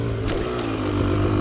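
A 2018 Beta Cross Trainer 300 dirt bike engine drones steadily while riding, with a continuous buzzing hum and slight rises in pitch. It sounds close and loud, with no talking.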